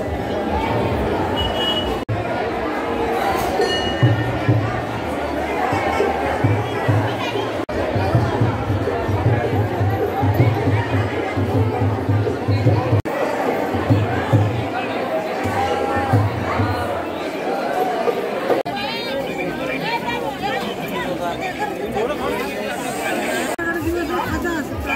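Dense crowd chatter fills a night-time village fair, the Kodali Mauli yatra of 2025, a steady murmur of many overlapping voices that carries on without pause, with deep low-frequency hum running beneath it.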